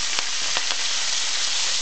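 Thick lettuce leaves hit hot oil in a pan and sizzle steadily and loudly at close range, with a few brief crackles early on. No one talks.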